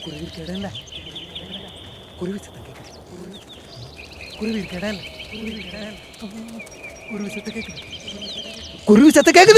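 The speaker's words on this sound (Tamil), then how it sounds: "குருவி சத்தம் கேக்குது." Small birds chirp in short scattered calls from mid-distance in a village scene from a Tamil film, mixed with background tones and a brief louder burst at the end.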